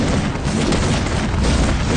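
A bomb blast in the VR game Ancient Amuletor, a loud, dense rumbling boom that fills the whole moment with continuous low crashing noise.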